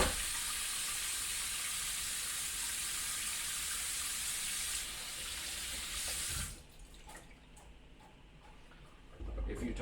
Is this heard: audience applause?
no